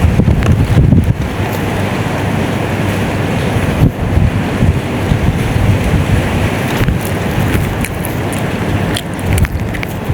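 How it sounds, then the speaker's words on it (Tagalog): Strong wind buffets a microphone outdoors, a loud, steady rumbling roar with gusty surges throughout and no voices. "Ang hangin guys."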